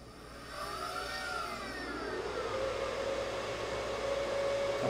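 A Dell PowerEdge R720 server powers on, and its cooling fans spin up into a steady, whirring hum. A rising whine settles into a sustained tone that grows slightly louder toward the end.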